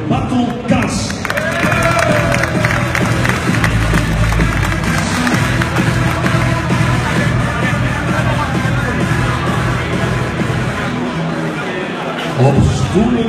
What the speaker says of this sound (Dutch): Een applaus graag voor Bartel Kas.